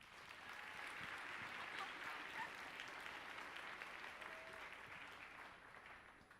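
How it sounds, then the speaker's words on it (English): Steady audience applause fills a school's tenth anniversary celebration, a dense sustained wash of clapping at moderate distance that holds evenly before tapering slightly at the end. "Let's give Adriana a round of applause."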